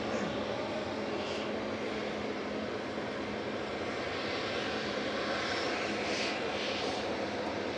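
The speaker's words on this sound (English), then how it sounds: "the Etihad is pinging 777 departing soon" An Etihad Boeing 777 departs Manchester Airport, a faint, distant, steady jet rumble that washes on without clear peaks, heard from afar in open air.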